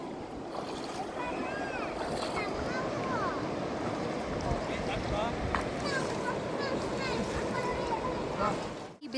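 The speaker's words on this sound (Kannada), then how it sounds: "ಎಷ್ಟು ಫೋರ್ಸಾಗಿ ಹರಿತಾ ಇದೆ ನೋಡು." A river running forcefully through a hidden spot in nature, a dense continuous rush and splash of water heard close, with people talking over it and faint chirps above.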